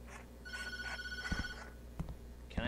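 A telephone in the Tattletail horror video game rings with a steady electronic trill, fairly faint against a low background hum, broken by a few soft clicks and thumps.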